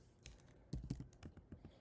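Typing on a computer keyboard, a brief run of sharp, close key clicks in an uneven rhythm, with a few louder thumps in the middle.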